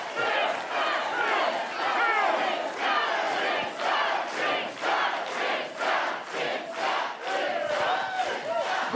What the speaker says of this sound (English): The crowd goes so wild, the camera starts shaking.